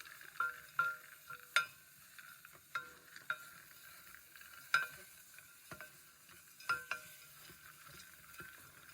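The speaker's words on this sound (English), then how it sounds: "everybody's going in the pot. And we're gonna stir, stir, stir." A spoon stirs serviceberry BBQ sauce with brown sugar in a pot on the stove, making irregular soft scrapes and clacks against the metal over a quiet background, with no talk.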